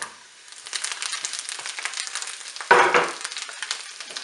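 Parsley fries on low heat in a pan with a soft, continuous crackling sizzle, rising to a louder burst of stirring and frying partway through before settling back.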